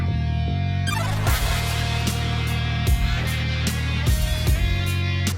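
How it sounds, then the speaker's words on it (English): A song intro made from a drum-free track excerpt that has been reversed, compressed and limited: dense, loud, continuous music with swelling, backward-sounding attacks and no voices. "recorded by itself with no drums, then reversed, compressed, and limited to make the intro of the song"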